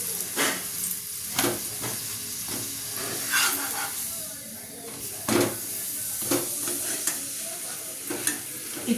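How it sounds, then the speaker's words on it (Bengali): An aloo paratha fries in a pan with a continuous close hiss and sizzle, and crackling bursts recur every second or two as it is pressed and turned. A voice talks faintly underneath. "দেখো আমি কেমন করে পরোটা ভাজছি"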